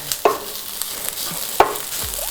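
Garlic sizzling in a hot pan, a soft steady frying hiss broken by a few sharp stirring scrapes, close by with no talk.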